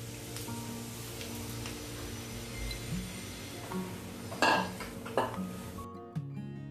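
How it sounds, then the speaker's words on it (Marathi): Semolina dry-roasting in a pan with ginger and chilli, a spatula scraping and stirring through it with light ticks and clinks of metal, a couple of louder clatters toward the end, then sudden quiet. "हा रवा मी असा खरपूस भाजून घेतलेला आहे."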